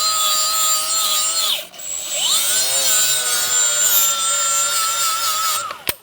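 A rusty Ford Focus steering knuckle is scrubbed with a rough, rasping, close scraping that runs in long strokes, broken by one brief pause and a sharp knock near the end.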